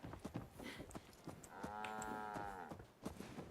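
A cow in the video game Fallout 4, played in survival mode, gives one drawn-out moo in the middle, surrounded by light thumping footsteps and faint game sounds.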